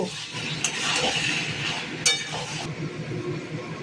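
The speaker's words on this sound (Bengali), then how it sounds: "1 চামচ মতো চিনি যোগ করে নেড়ে চেড়ে নেব।" A spoon stirs papaya curry with grated coconut and a spoonful of sugar in a hot pan, making a continuous close sizzle with soft scraping and a couple of brief clinks, no voices present.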